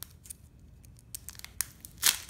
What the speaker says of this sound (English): I'm trying to rip this open with my bare hands.